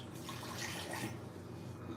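Steady rush of water from an open kitchen tap left running while burger dough is mixed, a continuous broadband hiss at moderate level with no talk over it.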